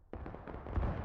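A musket volley from the Civil War shooter War of Rights, a ragged cluster of many near-simultaneous shots that breaks out abruptly and rolls into a booming rumble lasting about a second.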